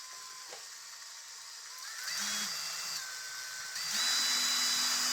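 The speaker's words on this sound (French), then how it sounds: "Je vais mettre un rilsan pour maintenir la gâchette de la perceuse en position" An electric drill, trigger held on for a steady speed, whirs steadily, its motor whine stepping up in pitch twice as it spins faster and grows louder.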